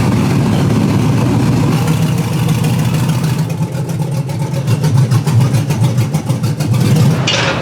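A junkyard car engine runs hard on a dyno, a loud, continuous revving roar that shifts in pitch as it pulls through the gears, then ends abruptly near the close.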